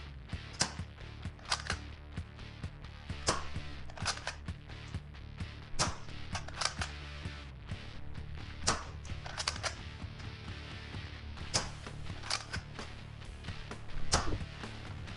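A NERF Elite 2.0 Commander RD-6 foam blaster fires repeatedly through a chronograph, giving a run of quick, light clicks and snaps over a steady low mechanical hum, close to the listener.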